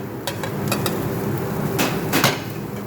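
Boiled rice going into a wok for restaurant-style Chinese fried rice in a Dubai restaurant kitchen, with sharp metallic clanks and scrapes of a ladle against the pan over a steady roaring burner hiss.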